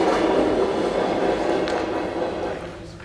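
A train recorded in Shanghai rumbles steadily with a broad, continuous roar that holds near and loud before easing off slightly toward the end. A few faint higher clatters sit on top.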